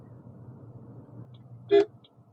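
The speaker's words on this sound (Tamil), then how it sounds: "ஹார்ன் இது ஓகேன்னு தோணுதா?" A single short car horn toot sounds clearly over a quiet, low engine hum inside a Toyota Hyryder SUV.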